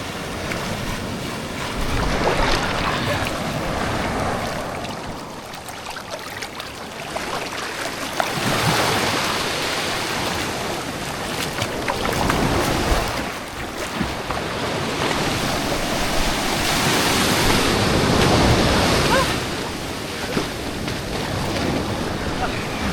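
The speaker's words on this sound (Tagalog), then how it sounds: "Pakita mo yung alon." Ocean waves churn and surge around a small boat while strong wind buffets the microphone in a steady, loud roar.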